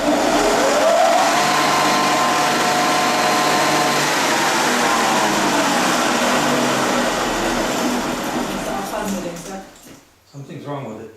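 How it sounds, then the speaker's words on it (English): Floor sanding machine with its belt running, used to restore a century-old library floor, gives a steady loud mechanical whir that holds for several seconds, then cuts out and sputters near the end. "you can make sure that the belt is running evenly by starting the machine for a moment"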